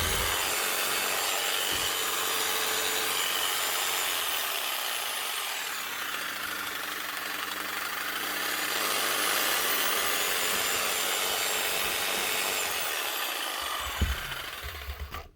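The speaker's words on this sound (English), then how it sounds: "2007 Parkside Jigsaw. Up and running again with a new Bosch switch." 2007 Parkside jigsaw fitted with a new Bosch switch, running and sawing through wood, a continuous raspy cutting noise with a steady motor whine, fairly close, ending in a few clunks as it stops.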